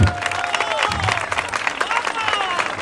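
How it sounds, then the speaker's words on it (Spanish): Steady applause comes from an audience at a football club festival in Sagunto, with dense clapping and some crowd noise running throughout under amplified talk. "La nostra xica sexy, un fort aplaudiment."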